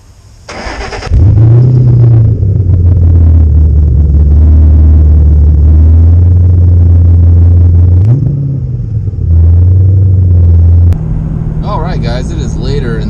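Car driving on back roads, a loud, steady low engine drone and road rumble from inside the cabin with a brief rise in pitch partway through, ending with a person speaking over it.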